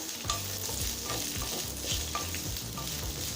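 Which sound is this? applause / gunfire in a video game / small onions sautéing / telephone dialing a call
small onions sautéing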